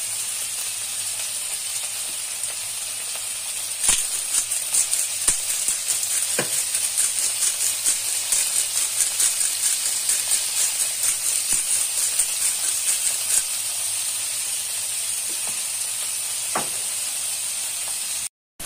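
Salted and peppered beef frying in a pan, a loud continuous sizzle with occasional pops and clicks throughout, no talking, ending abruptly.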